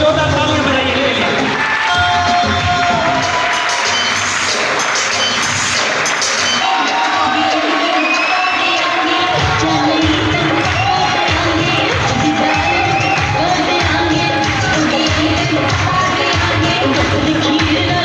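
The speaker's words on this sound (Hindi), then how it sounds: "अगर आप टेक्नीशियन बनना चाहते हैं तो जोरदार तालियां बजाइए इनके लिए" An audience at a welcome ceremony for a new technical achiever cheers and claps loudly and continuously, with shouts rising over dense crowd noise and a voice now and then through the din.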